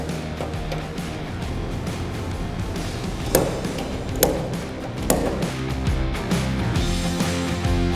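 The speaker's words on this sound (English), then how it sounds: "he is doing the dent removal with the slide hammer" Several sharp metallic knocks from a slide hammer pulling dents from a car body strike at irregular intervals over a busy, noisy workshop background, each a single hard impact.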